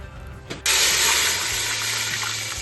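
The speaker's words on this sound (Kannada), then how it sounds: "ಎಣ್ಣೆ ಹಸಿ ಸ್ಮೆಲ್ ಹೋಗೋದಕ್ಕೆ ನೀರು ಹಾಕ್ತಿದ್ದೀರಾ?" Water suddenly gushes into hot cooking oil in a pot for a village-style chicken biryani, a loud, steady rushing pour that starts abruptly after a brief clunk and continues strongly to the end.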